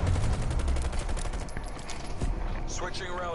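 Rapid gunfire bursts from a multiplayer shooter video game crackle continuously, fairly loud, with a faint voice underneath.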